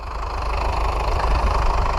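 An Ursus C-4011 tractor engine running in a field while pulling a disc harrow, a loud, steady low diesel rumble with a knocking mechanical chug, close and continuous throughout.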